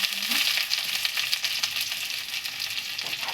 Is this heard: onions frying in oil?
yes